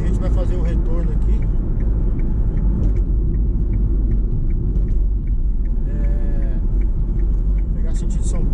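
A car driving on the Dutra highway toward São Paulo while making a U-turn, a steady low road rumble heard from inside the cabin, with faint ticking and some background talk.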